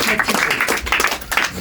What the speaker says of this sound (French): Maintenant, on peut l'applaudir. Bravo.